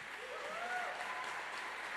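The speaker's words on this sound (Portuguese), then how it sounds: "Uma salva de palmas para eles aí." Church congregation applauds guests during a Sunday service, a steady wash of many hands clapping at moderate distance, with a faint tonal sound gliding underneath.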